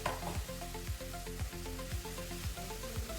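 Onion masala fries in oil with added salt for a soyabean roast, giving a continuous close sizzle broken by regular spoon-scraping strokes about every half second, with no one speaking.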